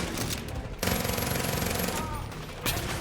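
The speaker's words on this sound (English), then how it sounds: "God, I love the wall of bullets that is the Vector" A Vector submachine gun in Far Cry 5 fires a dense, rapid automatic burst that fills the whole moment, loud and close, with a short pause before the firing resumes.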